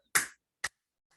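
Hands clapping briskly during a chair yoga session, two sharp, close claps about half a second apart, followed by a much fainter third tap, with silence around them.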